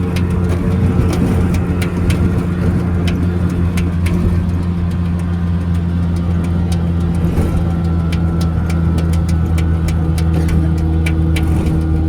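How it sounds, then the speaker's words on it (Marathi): Auto rickshaw engine drones on a dark road before dawn, a loud, continuous close-up rumble heard from inside the cabin, steady throughout with small ticks and rattles. "आमच्या मामांची रिक्षा गोंगाट चाललेली आहे"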